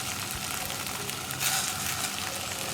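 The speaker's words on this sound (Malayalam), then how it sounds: "നമുക്കിതിലേക്ക് ഫ്രൈ ചെയ്ത് വെച്ചിരിക്കുന്ന നമ്മുടെ സേമിയ ചേർത്ത് കൊടുക്കാം" Sago payasam cooking in a pan on a low flame as fried vermicelli goes in, a steady bubbling sizzle close by with a brief brighter crackle midway, and no voices.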